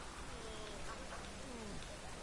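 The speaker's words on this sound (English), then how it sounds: "It just rains and rains." Rain falls steadily in The Witcher 3, a faint continuous patter and hiss, with game voices and a soft melodic sound rising over it.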